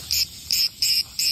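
A cicada gives a rapid series of loud, buzzing chirps, four short shrill pulses in quick regular succession, close and alone.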